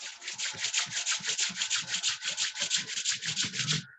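Both palms rubbed briskly together, about twenty quick rhythmic swishes in an even pulse, close and fairly loud, alone without talk, stopping abruptly at the end.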